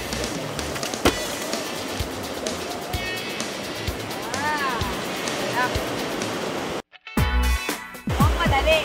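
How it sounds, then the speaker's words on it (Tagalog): Ocean surf rolls and washes steadily at close range, a loud broadband roar that runs under people talking, breaks off briefly near the end, then comes back. "Kailangan natin magantay ng wave."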